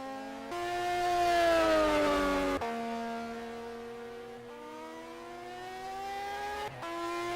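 A Mazda Furai race car engine screams through gears at Silverstone in Simraceway, with loud rising revs, two sharp upshifts and a strong climbing whine held close throughout.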